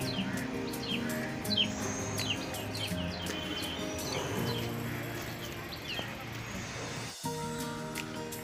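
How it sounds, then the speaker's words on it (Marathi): Sparrows chirp in repeated short tweets across an old hillside fort in Mumbai, the calls fairly clear over a steady background of ambient noise, with a brief dip near the end. "चिमण्यांचा आवाज पण आहे बघा"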